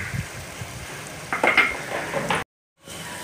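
Masala of tomatoes, turmeric, chili powder and coriander powder fries in a pan for South Indian rohu fish curry, a close sizzle with stirring scrapes that cuts to brief silence before resuming.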